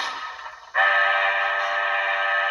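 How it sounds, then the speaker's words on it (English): A sustained horn from an HO scale Rapido Canadian Pacific Royal Hudson model steam locomotive switches on abruptly after a brief quieter lead-in and then holds a steady, bright, reedy tone, heard alone. "We have the horn"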